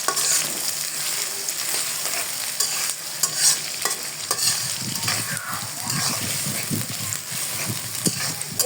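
Onions fry in oil for a beef curry with a steady sizzle, while repeated scraping stir strokes grow busier and more rhythmic in the second half; no one speaks.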